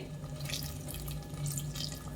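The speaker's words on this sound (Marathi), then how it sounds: "आता परत मी एक वाटी पाणी घालणार आहे" Water from a bowl runs steadily into a pressure cooker of jackfruit biryani, with a continuous splashing rush and a low hum beneath, close by and fairly even throughout.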